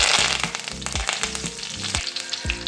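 A sprig of curry leaves hits hot oil while cooking squid thokku, giving a loud continuous sizzle and crackle that is stirred in repeated quick strokes.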